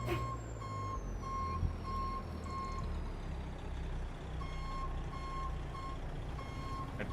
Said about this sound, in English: My beeper cuts out depending on how far I push down my pedal.